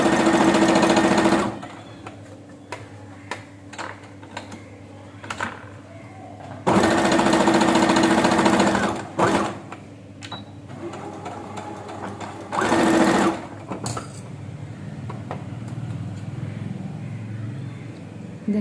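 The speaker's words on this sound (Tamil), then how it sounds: "மறுபடியும் இங்கேருந்து ஸ்டிச் பண்ண ஆரம்பிங்க" A sewing machine stitches fabric for a bow scrunchie in loud, close runs of rapid whirring, with quieter stretches of handling noise between the bursts.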